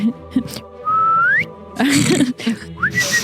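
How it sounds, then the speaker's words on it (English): A person whistles to a cattle dog while herding: several sharp rising whistles, including one long sustained note, loud and close, mixed with movement noise and brief background sounds. "Just a quick whistle for the cattle dog."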